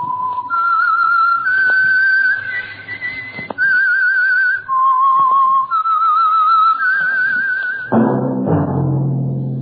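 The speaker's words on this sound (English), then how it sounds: "That whistle is your signal for the Signal Oil program, The Whistler." A lone whistler carries a slow, wavering melodic tune with vibrato on held notes, clear and close, serving as the opening signal for The Whistler radio program; a low orchestral swell enters at the end.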